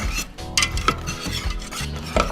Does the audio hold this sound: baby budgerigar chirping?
no